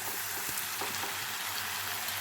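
Steamed cucumber pieces go into hot oil with prawns, giving a continuous, even sizzle of frying close by with faint stirring underneath.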